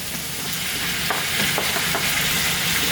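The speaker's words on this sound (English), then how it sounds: "Give that another quick little stir." Smoked herring stews and sizzles in a pot while being stirred, a steady close frying hiss with a few soft scraping strokes of the spoon running through it.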